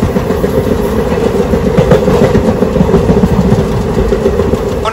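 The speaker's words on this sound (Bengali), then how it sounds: "আমাদের ট্রেন এখন ক্রস করছে মুন্ড্রো আইল্যান্ডস।" A passenger train running from Kottayam to Trivandrum past Munroe Island, Kerala, makes a steady, loud rumble with a rhythmic clatter of wheels on rails throughout, heard from on board with no voices.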